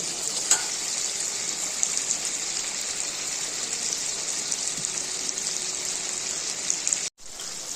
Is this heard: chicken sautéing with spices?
yes